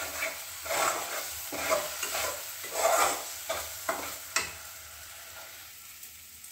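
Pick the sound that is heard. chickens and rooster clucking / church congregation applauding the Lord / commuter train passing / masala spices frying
masala spices frying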